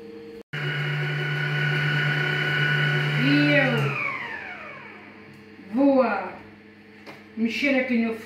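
A blender motor runs steadily then winds down, whirring as fruit juice is blended for a honey cane fruit cake, with brief voice and clatter sounds afterward.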